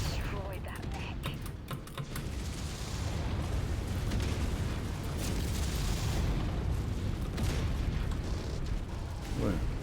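A mech destroyed in MechWarrior 5, with loud, continuous explosions and rumbling blasts filling the scene, plus rapid crackling bursts at the start.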